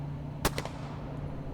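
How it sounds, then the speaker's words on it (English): Gunshots in a tense night-time story scene: a sharp loud crack followed by two quicker, fainter shots a moment later, standing out over a steady low background hum. "Gunshots. Surely gunshots aimed at me."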